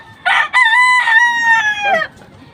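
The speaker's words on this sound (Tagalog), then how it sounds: "Malikot yung manok." A single loud, close chicken call, a drawn-out squawking cluck lasting about two seconds, with nothing else around it.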